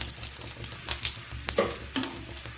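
Dried red chilli drops into hot oil with a close, crackling sizzle, broken by several quick bright pops and spits over a couple of seconds.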